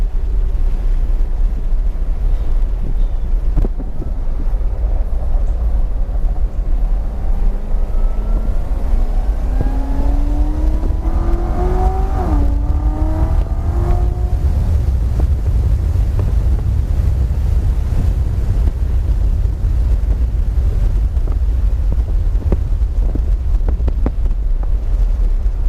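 A 2019 Chevrolet Corvette Z06 Special Edition drives with its exhaust valve in stealth mode. Its subdued engine note rises and falls faintly midway through, largely masked by constant rushing wind noise.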